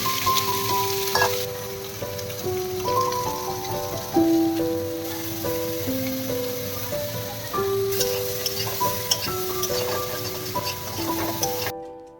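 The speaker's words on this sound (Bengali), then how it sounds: "এখন আমি সয়াবিনগুলোকে ভালো করে ভেজে নেব" Soybean chunks fry in a hot pan with a soft, continuous sizzle and occasional stirring. The sizzle sits under a melodic music track that plays throughout.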